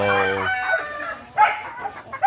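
Backyard farm chickens with a rooster crowing loudly and close, one drawn-out crow followed by a few short clucks, with no talking.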